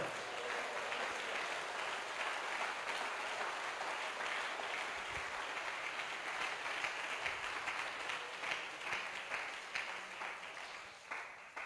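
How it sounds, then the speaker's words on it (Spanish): Sustained congregation applause inside a Pentecostal church service, an even wash of many hands clapping at moderate distance, steady throughout with no letup. "Un aplauso para el Señor"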